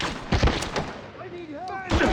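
Gunfire in the James Bond 007 Blood Stone shooter, a few loud close bursts near the start and again at the end, with a shouted line and a whistling tone in between.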